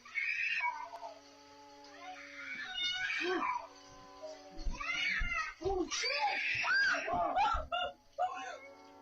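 Several people scream in high, wavering wails, overlapping one another through a creepy short-video clip, broken by gaps and sharp bursts of louder shrieks near the end.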